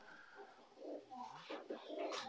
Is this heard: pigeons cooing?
yes